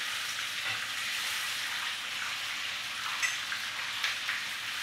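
Sea fish for escovitch fish fry in hot oil, a steady close crackling sizzle with occasional louder pops, no voices over it.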